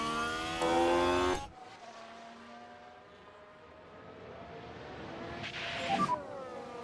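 Racing cars in a video game drone steadily with layered engine tones, one car's loud whine dropping off early before a quieter, continuous hum of distant engines builds again toward the end.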